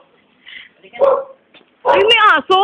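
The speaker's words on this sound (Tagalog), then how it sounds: "Ay, may aso!" A dog gives a few short, high barks and yips, close by and fairly loud, with quiet gaps between them.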